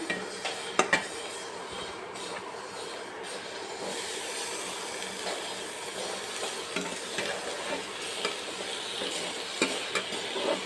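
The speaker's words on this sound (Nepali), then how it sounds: "अब यसमा हामीले टमाटर राख्छौं।" Tomatoes going into a frying pan for a Nepali-style button mushroom and bean dish, stirred with scraping clinks and a soft steady sizzle close by, with no talking.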